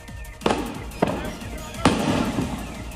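Three sharp, loud blasts as a shop fridge's compressor bursts at uneven intervals, each a sudden broadband crack that fades quickly, with voices murmuring underneath between them.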